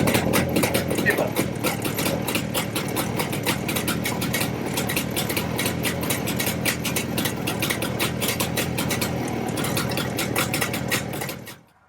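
A 1958 Jawa 350 motorcycle engine idling after a kick start, a steady rapid ticking two-stroke-like chatter held close and even for several seconds before cutting off abruptly.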